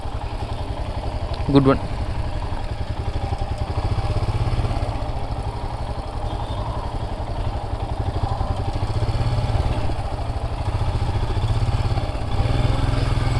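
A Royal Enfield Hunter 350 motorcycle riding off-road, its engine thumping steadily and close throughout, with a brief sharp clatter and a short spoken remark near the start.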